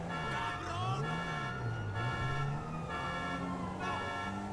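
Wailing ambulance siren in the video game GTA 5, a steady rising and falling wail with rhythmic warbles, close and loud over engine and traffic noise throughout.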